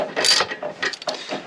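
A ratchet fitted with a 7/16 socket works a stud on a Torklift GlowStep step install, giving a few close, quick clicking bursts of pawl and gear mechanism with short gaps between them.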